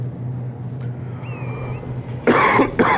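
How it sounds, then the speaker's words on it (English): A single person coughs sharply twice near the end, loud and close, over a steady low hum, with a brief whistling tone heard earlier. "Coughing is one of the worst things just ever."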